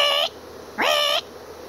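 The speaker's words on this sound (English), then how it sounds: "I was hearing this bird like" Outdoor bird call heard as two short, high whistled notes, the second rising sharply before leveling off, with a brief gap between them and no talking.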